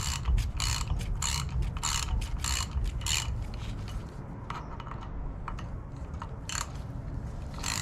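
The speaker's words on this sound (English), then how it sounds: "I'm removing these 6 flange bearing bolts" A ratchet wrench clicks in rapid bursts, loud and close, as six flange bearing bolts come off the drive of a sand rail in a workshop.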